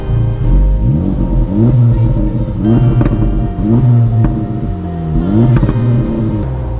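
A stock Lotus Emira sports car engine, heard from outside the car, revs repeatedly in short rising blips, a loud, close, throaty rumble with rhythmic surges over roughly seven seconds.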